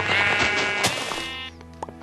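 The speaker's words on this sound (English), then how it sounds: "Shut up, sheep!" A Minecraft sheep bleats with a wavering, nasal cry, held for over a second and close by, followed by a few short softer bleats and light clicks.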